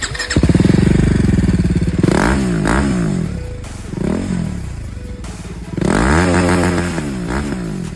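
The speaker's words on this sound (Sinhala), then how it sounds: "මොඩිෆයි කරාට පස්සේ එක්සොස්ට් නෝට් එක මෙන්න මේ විදිහට" BMW G310R motorcycle with a modified silencer revving close by, loud throaty exhaust rising and falling through several blips, with a steady idle between bursts.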